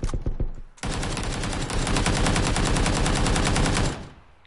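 Rapid automatic gunfire from a competitive shooter video game rattles out in a long, loud, evenly spaced burst, preceded by a few separate shots and cutting off abruptly near the end, with no talking.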